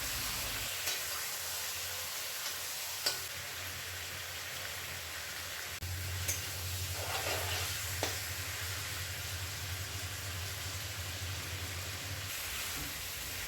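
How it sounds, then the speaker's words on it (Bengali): Mutton is stir-fried on medium heat for a Bengali-style curry, a soft, steady sizzle with a low rumbling hum and a few light scraping taps, heard faintly from close by. "এই পর্যায়ে মিডিয়াম আঁচেতে মাংসটাকে ভালো করে কষিয়ে নিতে হবে"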